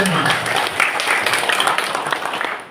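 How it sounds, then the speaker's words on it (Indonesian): An audience at a Tabanan, Bali election campaign rally applauds, a loud sustained roar of clapping mixed with crowd voices and cheering that fades slightly at the end. "Tepuk tangan untuk kita semua."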